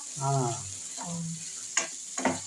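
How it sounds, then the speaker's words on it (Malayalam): Ripe banana slices sizzle steadily in hot ghee in a pan for banana bonda, a continuous frying hiss with a few soft stirring scrapes near the end. "നെയ്യിൽ നമുക്ക് വഴറ്റി എടുക്കുമ്പോൾ"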